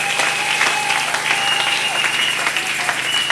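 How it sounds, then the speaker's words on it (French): A church congregation claps and cheers together in sustained, dense applause, steady and loud for the whole stretch, with voices mixed into the clapping. "Acclamez-le, il mérite les acclamations."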